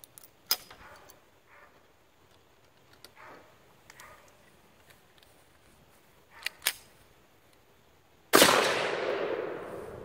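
Single shots from an Accelerator .17 HMR pistol crack out sparsely, with a couple of sharp reports spaced apart and one louder, lingering blast near the end, no talk over them.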